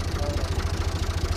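Near a car in a village in Kelkit, Gümüşhane, an engine idles with a steady, low, rhythmic throb, close and fairly loud, with no voices.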